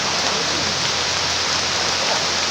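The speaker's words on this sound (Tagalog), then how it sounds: "Malakas na yung ulan dito." Heavy rain pours down steadily during a storm, a dense, even hiss that stays loud and unbroken from start to finish with no voices.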